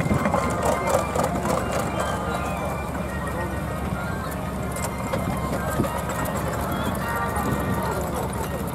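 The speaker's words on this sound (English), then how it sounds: "the little miniature showman's engine" A miniature steam showman's engine runs in the grand parade arena at the Bloxham steam rally, its steady mechanical chuffing and rumble blending into continuous outdoor crowd and ambient noise.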